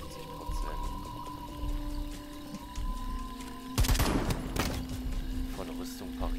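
A sudden burst of rapid automatic gunfire in Jagged Alliance: Rage! erupts partway through, loud and dense over a humming game background.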